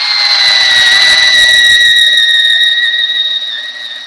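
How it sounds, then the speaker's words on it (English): Power drill boring with a drill bit while installing a gate and rail: a loud, steady high-pitched whine with a shrill tonal edge that holds for several seconds, then eases slightly toward the end, with no speech. "Let's see if their other drill bit's any better."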